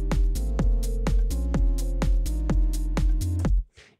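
A time-stretched audio loop in Ableton Live plays in time with the project, with a steady, evenly spaced pulse of bass-heavy hits that ends in a short decaying tail.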